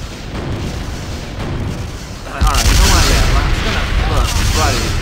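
Missiles in the video game Killer7 set off a sudden deep boom halfway through, followed by loud, rumbling blasts and crackling debris that continue to the end over game background noise.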